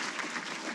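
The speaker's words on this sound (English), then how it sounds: "Please give these ladies and gentlemen a round of applause." Short burst of audience applause at a Hall of Fame ceremony honoring executives, dense steady clapping from a crowd at moderate distance.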